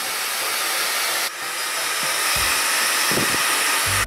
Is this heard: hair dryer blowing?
yes